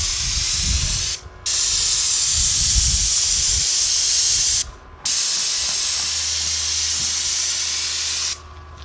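An airless paint sprayer sprays house paint in three long, loud, steady hissing bursts separated by short pauses.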